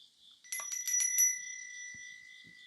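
A small bell is struck several times in quick succession, and bright ringing tones linger and fade in a quiet room, with a couple of faint soft knocks afterward.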